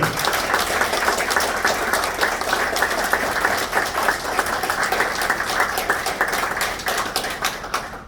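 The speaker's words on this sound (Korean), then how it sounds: "여러분 큰 박수 다시 한번 환영해 주십시오" A large crowd at an outdoor political rally applauds steadily to welcome a speaker, dense and sustained clapping at an even level for several seconds before easing slightly at the end.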